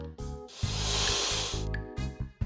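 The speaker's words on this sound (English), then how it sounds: "A snake makes a hiss" A snake's long, breathy hiss rises for about a second over a soft musical backing, with shorter musical phrases before and after it.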